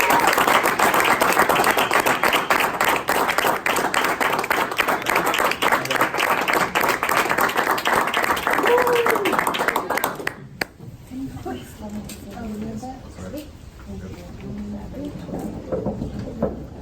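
Audience applause for a guest at an evening business gathering, loud sustained clapping for about ten seconds that cuts off abruptly, followed by quieter room noise and a voice speaking.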